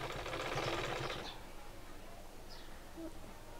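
A sewing machine runs in a loud, fast, whirring burst while stitching a garment neckline, then stops, leaving quiet room tone.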